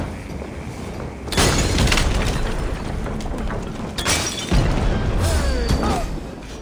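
Loud, booming blasts and crackling debris fill the clip, with sharp impacts recurring every couple of seconds, from explosions in Assassin's Creed Valhalla.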